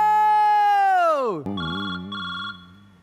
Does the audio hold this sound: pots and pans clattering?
no